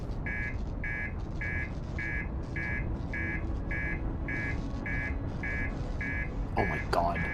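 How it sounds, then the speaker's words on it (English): Master alarm in the Outer Wilds spaceship as the reactor nears explosion: a steady run of regular, evenly spaced electronic beeps over a low ambient rumble, ending with a brief louder burst. "that master alarm button means that your reactor is about to explode"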